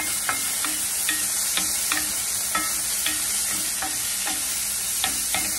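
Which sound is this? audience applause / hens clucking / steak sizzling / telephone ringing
steak sizzling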